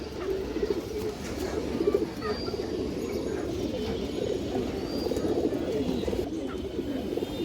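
A full down shape pigeon coos softly and steadily, close by, with a low rumbling murmur and faint background voices throughout.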